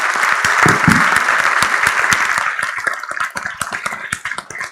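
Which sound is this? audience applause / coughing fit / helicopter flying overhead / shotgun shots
audience applause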